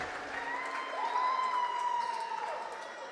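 Crowd cheering and applauding in a school gym after a boys' basketball game ends, a broad, steady roar of voices with a whistle-like tone rising over it, moderately distant and sustained throughout.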